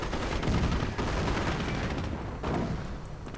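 Dense, continuous gunfire and rumbling battle noise in a WWII strategy video game, where a .30 caliber machine gun emplacement is in action, loud and unbroken with a few heavier bursts.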